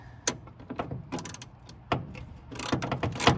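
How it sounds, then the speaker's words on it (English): A 10mm socket ratchet works on the dashboard fasteners of a 1970 Volkswagen Beetle, giving a string of close, sharp mechanical clicks and clatters in uneven bursts, with a denser run of ratcheting near the end. "So they take a 10mm socket according to the video I watched."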